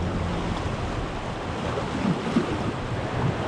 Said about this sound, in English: some tricky currents here where a bunch of the braids of the river all collide with each other as the river takes a big bend